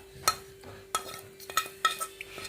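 A spoon stirs grated coconut into moong dal payasam in a pot, giving a few soft, scattered scraping clinks over a faint steady hum, quiet and close, with no talk.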